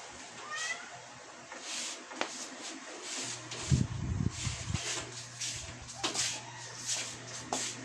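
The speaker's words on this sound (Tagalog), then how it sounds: "Mga pusa ko kasi kadalasan istorbo." Several cats meow repeatedly, some cries close and loud and others thinner, over a steady low hum in a quiet indoor room, with faint movement noises in between.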